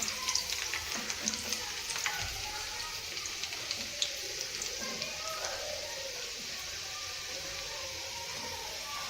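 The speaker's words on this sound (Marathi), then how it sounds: "मी आता तेल पण तापलेलं आहे, त्याला टाकून घेत आहे।" Garlic cloves dropped into hot oil fry with a soft, even sizzle and scattered small pops, fairly quiet and steady from start to finish.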